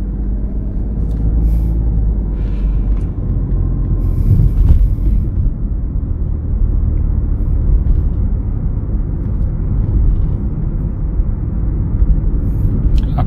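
A car on a driving-test road course is put into gear and pulls away, a continuous low engine drone and road rumble building steadily with a few faint clicks, no talking.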